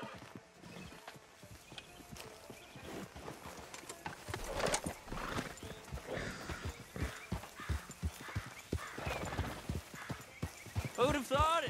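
Horse hooves clip-clop along a beach path in Red Dead Redemption 2, a steady rhythmic gallop close by, partly under dialogue, with a short whinny near the end.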